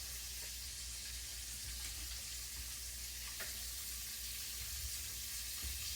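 Country fried steak frying in a pan makes a steady, even sizzle with faint crackles and occasional pops, continuous and close, with no talking.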